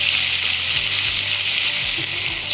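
White chicken karahi fries in a pan with a loud, close, steady sizzle, broken by a few soft low knocks from stirring.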